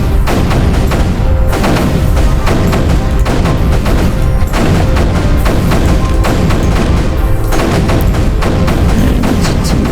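Cannons firing in the strategy game Creeper World 3 produce a dense, continuous barrage of booms and thuds, loud and unbroken throughout.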